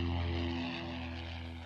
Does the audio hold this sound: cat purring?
no